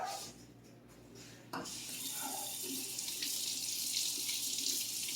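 Tap water runs into a sink as fresh cucumbers for pickling are rinsed, a steady close splashing that swells after a brief quieter trickle, with no talking over it.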